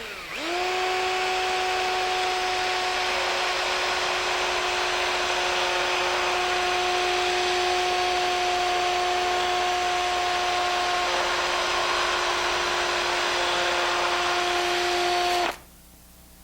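A steady, high-pitched whine from a bench grinder or powered wheel as a woodworking chisel is rotated against it for sharpening and polishing. It runs continuously and loud for about fifteen seconds, then stops abruptly.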